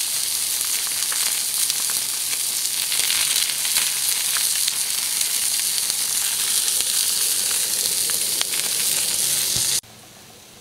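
Blackened catfish frying in a hot pan as the fat burns off, a loud, continuous crackling sizzle with bright spitting pops. It holds steady for about ten seconds, then cuts off abruptly.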